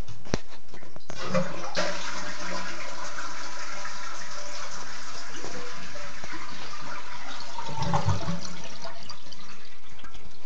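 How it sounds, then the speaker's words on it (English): A household toilet is flushed with the supply valve shut to drain the tank while a fill valve is being replaced: a loud, close, rushing flush that roars for about ten seconds with gurgling near the end. "Cut the valve off, and then you flush to let all the water out."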